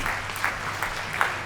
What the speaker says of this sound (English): Please round of applause for Basketball, yeah.